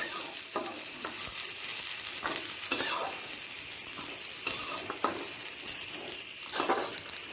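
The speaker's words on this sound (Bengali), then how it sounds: "আমি পুরো লাল করে ভাজছি না হালকা লাল করে ভেজে রাখছি" Potatoes frying in mustard oil in a pan, being stirred, give a steady close sizzle with repeated scraping stir strokes throughout, no speech.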